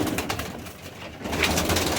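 Pigeons coo softly nearby, low throaty calls repeating over a faint outdoor hiss.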